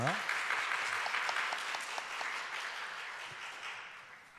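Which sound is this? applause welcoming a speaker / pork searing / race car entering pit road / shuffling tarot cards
applause welcoming a speaker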